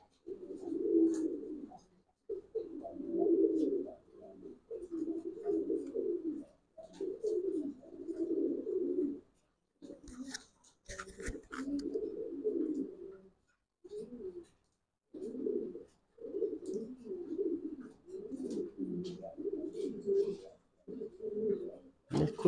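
Lahori Sherazi pigeons cooing in a loft, a steady stream of soft low rolling coos that repeats in overlapping phrases with short pauses, close and moderately loud, with no talk.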